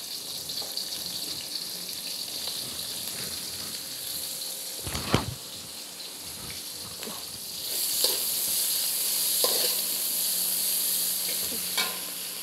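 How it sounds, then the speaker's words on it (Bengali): Chopped onion fries in hot oil for a home vegetable biryani, giving a steady sizzling hiss broken by a few sharp stirring clanks and scrapes. "কুচি করে রাখা পেঁয়াজ আমি দিয়ে দিচ্ছি।"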